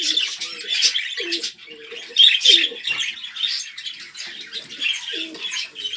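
Pigeons in a breeding loft coo in repeated low, throaty phrases close by, mixed with soft chirps and rustling of wings.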